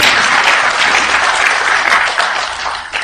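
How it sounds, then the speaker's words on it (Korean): Sustained audience applause at a Korean political debate forum, a dense, steady wash of many hands clapping close by, fading slightly toward the end with no voices over it. "영상을 보내주신 그 세 분께 큰 박수 한번 더 부탁드리는 것 같습니다"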